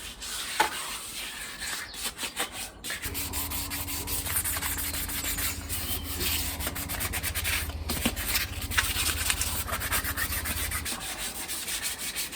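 Dirty MG ZR car part rubbed down by hand to key it for paint, a steady close scraping and sanding sound that runs throughout with a low hum underneath.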